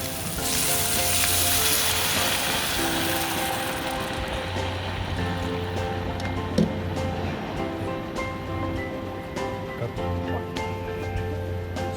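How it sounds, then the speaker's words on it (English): Water poured into a hot pan of pork belly with Korean chili powder sends up a loud hissing rush that fades over a few seconds into a steady, close sizzle and bubbling. "And then we're gonna put in water"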